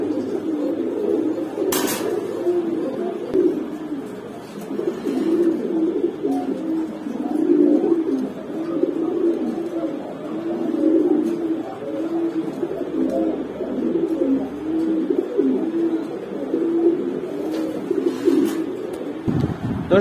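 Racer pigeons at a farm coo steadily and continuously throughout, a dense layered chorus of many birds close by with brief clinks of metal and no talk.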